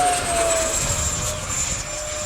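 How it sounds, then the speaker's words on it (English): Freewing Mirage 80mm RC jet flying at speed, its electric ducted fan giving a steady loud whine and rushing roar with a slight pitch shift, heard alone without voices. "You can hear the jet going through turbulence as the duct hits the different layers of air up there"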